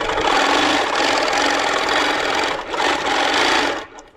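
A Moxie quilting machine stitches at 11 stitches per inch, giving a loud, steady mechanical hum and rattle with one brief dip before the stitching stops near the end.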